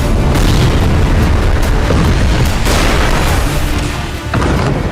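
Israeli missile and glide bomb strikes on Lebanon produce a loud, continuous roar of blasts and rumbling explosions, heavy and dense throughout with no talking.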